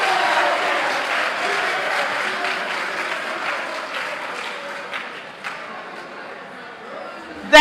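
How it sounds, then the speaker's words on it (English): Audience applause at a Ghanaian senior high school quiz contest, a broad dense clapping that fades gradually across the clip, heard alone until a sudden loud burst at the very end. "Let's give them an applause."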